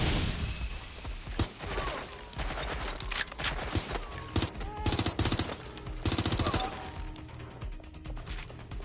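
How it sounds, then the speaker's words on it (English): Heavy gunfire in the Watch Dogs: Legion video game: loud, dense automatic bursts follow one another almost without pause, rattling close by throughout. "They're shooting at us!"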